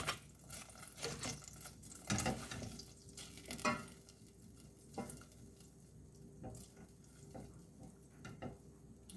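Butter melting gently in a pan over low heat, nudged along with a wooden spoon: quiet, soft sizzling under repeated scraping strokes and occasional knocks of the spoon, fairly faint throughout.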